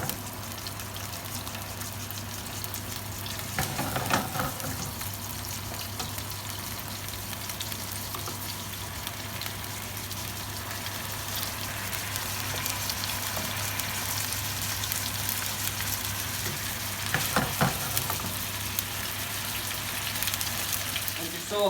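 Steady, loud sizzling of chicken searing in a hot pan for curry, with occasional scraping stirs over a constant low hum.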